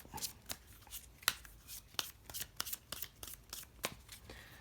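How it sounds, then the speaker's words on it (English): Playing cards from a set-collection board game riffle and snap in a quick series of crisp shuffles, close and fairly quiet, with no voices. "See, we shuffle these up."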